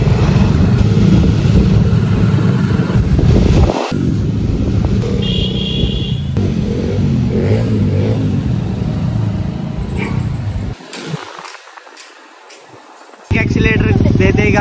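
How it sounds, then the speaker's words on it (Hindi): A dirt bike engine runs loud and close for most of the span, its steady drone broken by a brief dip and a gap near the end before it picks up again, with no speech over it. "गाइस बाइक की साउंड चेक करो एक बार,"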